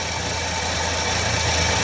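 A DeLorean engine runs at a steady idle after starting from the engine compartment, a close, continuous rumble with even vibration and no break.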